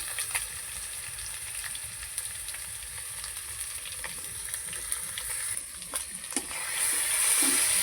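Onion and green chili paste frying in a pan gives a steady, close sizzle that runs the whole time, with scattered crackles and a few sharper pops near the end, and no voices over it.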